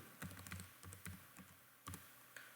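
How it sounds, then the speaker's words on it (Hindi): Quiet, quick keystrokes tap on a computer keyboard in uneven bursts as a username is entered, with no talking. "यहाँ पे अपना मैं यूज़र नेम लिखता हूँ"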